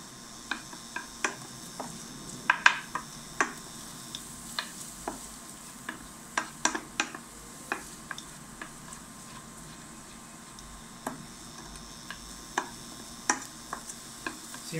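Onion sweats gently in butter in a pan, giving a soft low sizzle beneath constant stirring, with sharp scraping taps from the spoon at irregular intervals, close and fairly quiet, with no voices.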